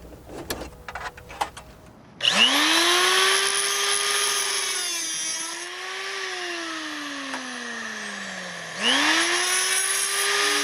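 A power tool trims a metal visor fin on a police interceptor car, its motor spinning up with a loud whirring cut that shifts pitch as it bites, eases off, then surges again, after a few faint clicks and no talking.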